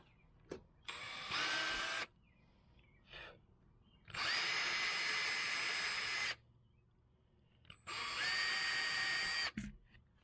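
Power drill boring small holes into a jig head mold, heard as three loud sustained bursts of whirring motor and cutting, each lasting about one to two seconds, separated by short quiet pauses and a few faint clicks.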